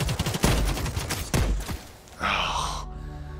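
Submachine gun fire in the shooter game The Cycle: Frontier, loud bursts of rapid shots in the first half, then a softer stretch with a breathy gasp and groan-like vocal sounds.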